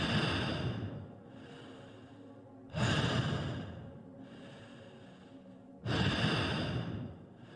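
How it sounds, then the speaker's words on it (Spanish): Three slow, heavy, drawn-out breaths, eerie and close, each a long airy inhale-exhale swell with short quiet gaps, standing alone as a horror sound effect. "Fue solo hasta que Edgar escuchó el ruido de la respiración de la entidad"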